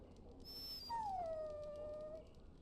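A dog whimpering in the video game Dragon Age: Origins, a single high, thin whine that slides downward and trails off, faint against a low background.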